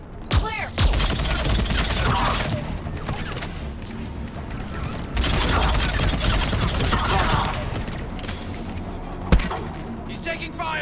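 Sustained gunfire in the Mass Effect 3 video game, dense bursts of automatic weapons and impacts running almost continuously, with a louder crack near the end and combat shouts mixed in.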